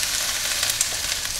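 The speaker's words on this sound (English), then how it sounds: "We put in our pork chops to the onions so that they already start picking the garlic and onion flavors." Pork chops fry with onions and garlic in a pan, giving a steady, close hiss of sizzling with small crackling pops and no voices.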